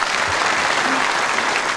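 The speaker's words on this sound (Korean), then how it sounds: "박수 한번 해주시죠." A crowd at a Daejeon mayoral inauguration ceremony gives dense, sustained applause, a steady wash of many hands clapping at close range with no gaps.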